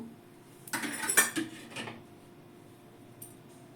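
Roasted whole spices, seven kinds for a vegetarian butter tomato sauce, tipped out onto a wide surface to cool, giving a brief burst of dry rattling and clinking against a pan or plate, then near silence.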